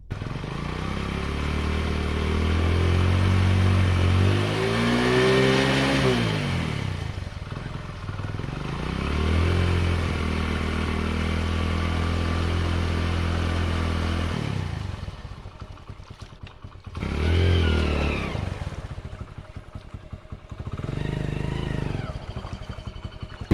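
Modified Hero Splendor motorcycle doing a burnout, the engine revving up and down loudly in repeated surges with brief dips and a final rev, close by, with some voices in the background.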